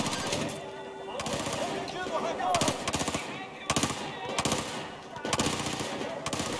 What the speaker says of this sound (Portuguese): Cadê o cara me atirando?